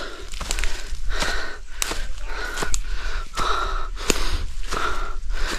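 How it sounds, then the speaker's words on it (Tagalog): Heavy, ragged panting from a runner climbing a steep mountain trail uphill, rapid gasping breaths repeating close to the microphone with no speech. "Grabe hingal ko."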